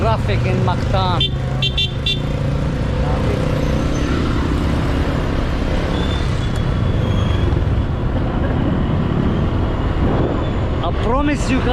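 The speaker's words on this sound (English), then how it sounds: "Traffic in Mactan." Street traffic in Mactan, Cebu, heard from the back of a moving motorbike taxi: a dense, continuous roar of engines and road noise with passing vehicles and brief horn toots, and a voice talking over it at times.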